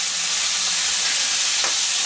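Burger patties sear on a hot grill plate with a steady, close, dense sizzle and hiss throughout, and a brief sharper crackle near the end.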